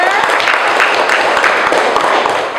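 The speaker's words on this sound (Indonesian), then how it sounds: "tepuk tangan untuk kita semuanya" A class audience claps together in a room, a dense, fairly loud patter of hand claps running steadily for a couple of seconds before easing off slightly at the end.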